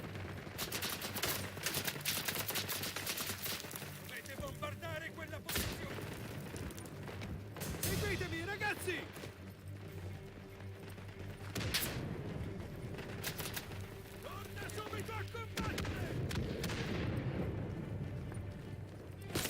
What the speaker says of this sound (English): I can't aim when the mortars are doing this